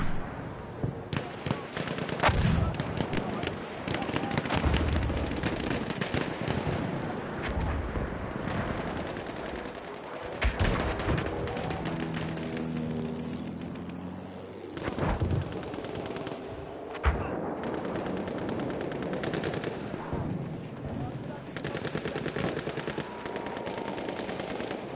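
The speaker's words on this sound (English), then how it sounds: "Alright, so we got a good gunfight here." A video game firefight in a semi-final match, with rapid machine-gun bursts and scattered single shots popping near and far throughout, under intermittent talk.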